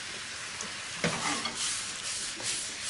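Goose stir-fry with coconut milk sizzling steadily in a pan while a utensil stirs it, with a few sharper scrapes and clacks against the pan over a constant broadband hiss; no voices.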